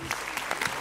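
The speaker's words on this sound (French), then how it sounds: "Vous pouvez applaudir Logan, il est plus fort que ça." Audience applause at a Gouvy tourist presentation in Belgium, a short dense burst of clapping from a crowd, steady and close with a few sharper claps poking through.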